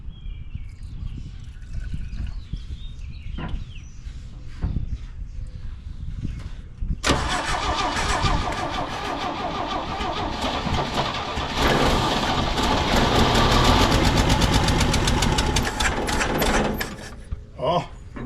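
A 1968 GMC pickup with a manual choke, left sitting for 27 years, cranks under a rough churning, then fires and roars into a loud, ragged, sustained run that holds for several seconds before it drops away.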